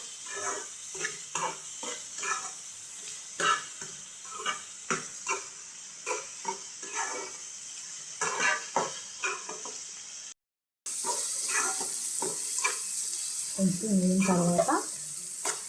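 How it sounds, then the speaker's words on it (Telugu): Dried fish fried with salt in a pan makes a steady sizzle, broken by repeated scraping stirs and a brief pause. A voice speaks now and then over the frying. "ఆ ఎండుమెత్తలు ఉన్న పచ్చివాసన అనేది పోవాలంటే ముందుగా కొంచెం 2 స్పూన్స్ సాల్ట్ అనేది వేసేసుకుందాం"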